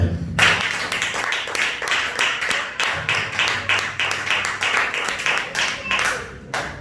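A church congregation claps in rhythmic unison, with loud, steady repeated hand claps filling the room from near and far. Singing or chanting voices carry underneath the claps.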